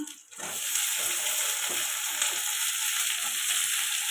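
Bashpata fish sautéing with green chili and onion greens in a pan, a dense steady sizzle that swells up after a brief quiet start and continues close and loud.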